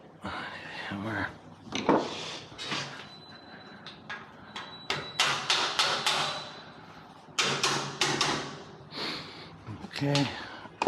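Sharp metallic knocks and taps come up close from a hammer while a mortise gate lock is installed, struck in short irregular clusters with a few scraping, sliding sounds mixed in.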